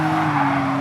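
An Audi's tires squeal in a continuous high screech while drifting in the racing game GT Sport at Spa, with engine drone underneath, loud and unbroken through the brief moment.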